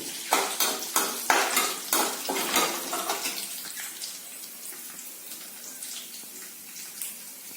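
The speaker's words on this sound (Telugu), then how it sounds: "ఒక హాఫ్ స్పూన్ ఆవాలు హాఫ్ స్పూన్ మినపప్పు ఒక వన్ స్పూను శనగపప్పు ఒక వన్ ఫోర్త్ స్పూను జీలకర్ర ఇది తాలింపు సరిపోతుంది" Mustard seeds, urad dal, chana dal and cumin hit hot tempering oil for a raw papaya curry, crackling and popping sharply in quick bursts for the first few seconds before easing into a softer, fading sizzle.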